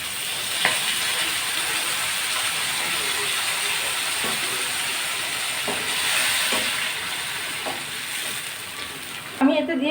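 Water poured onto spice paste frying in a pan, a sustained loud sizzle and hiss with scattered utensil taps and a louder clatter at the end.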